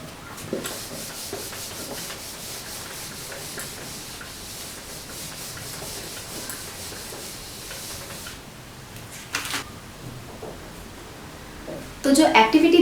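Hands or objects rubbed together for a school heat activity, a steady soft scraping friction that continues for several seconds, close but quiet, with a louder burst of handling near the end.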